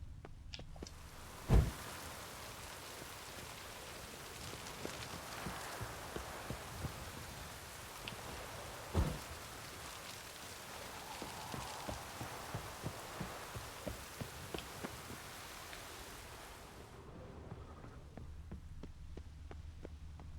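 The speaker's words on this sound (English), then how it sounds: "And it is raining." Steady rain hisses in The Witcher 3: Wild Hunt at the mountain keep of Kaer Morhen, a continuous soft wash with scattered light patters and a couple of dull thumps, no voices.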